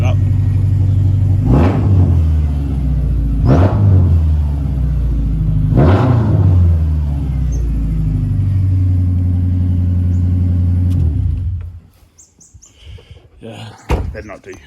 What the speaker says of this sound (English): I'll give it a little bit of a blip